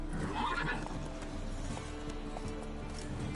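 A horse in a video game whinnies while being ridden, its neigh rising early over steady clip-clop hoofbeats and a low background score, moderately faint.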